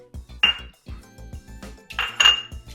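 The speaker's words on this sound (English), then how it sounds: "In a separate bowl, mix together the flour." Utensils clink and scrape against a bowl while flour is mixed for espresso chocolate chip cookies, a series of close, irregular metallic taps with a few louder strikes.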